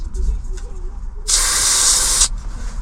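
A single burst of aerosol spray, aimed at a lighter so it will ignite in freezing cold, hisses loudly and steadily for about a second after a short quiet lead-in with faint background murmurs.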